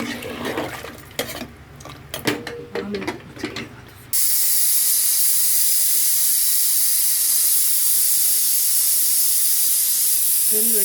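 A pressure cooker of bottle gourd curry steadily hisses out steam, loud and continuous, after a few seconds of clattering pots and utensils.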